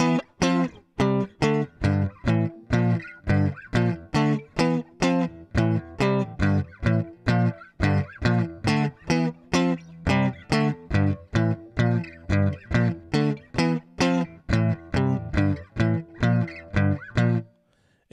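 Strummed guitar power chords playing the main riff of a song, a steady repeated rhythmic strumming pattern of choppy, evenly spaced strokes, loud and alone without talk.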